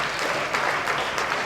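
A crowd at an exhibition opening claps and cheers in a dense, loud wash of applause with no pauses.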